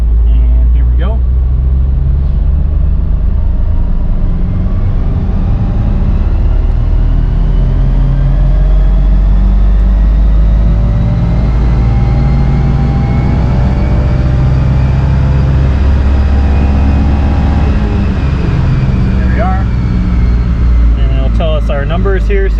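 A Subaru RA STI with a Stage 2 tune revving through fourth gear on a dyno, a loud, steady engine drone whose pitch climbs over a long pull, with someone talking over it.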